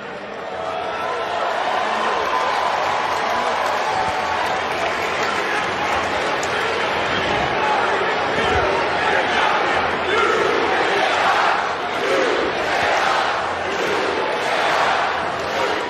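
A loud, dense arena crowd at WWE Raw roars continuously, its noise swelling and falling with rhythmic chanting and booing, filling the space from start to finish.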